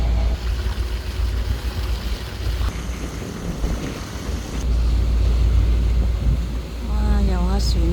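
An old-fashioned ferry cruises on the sea with wind buffeting the microphone and a low, steady engine and water rumble, while people speak and a voice exclaims near the end.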